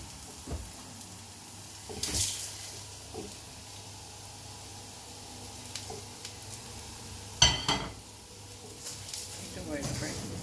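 Vermicelli (semiya) frying in a pan for upma, a soft continuous sizzle with occasional stirring scrapes and clatters, while a person talks over it.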